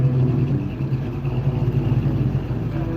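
A small pink Mopar Duster rumbles steadily and low at a car show in Provo, Utah, its deep idle throb staying even and fairly close throughout.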